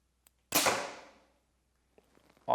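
An arrow is loosed from a bow using a back tension activated wrist release: one sharp, close snap with a quick decaying ring, followed by faint light clicks and a small knock at the end.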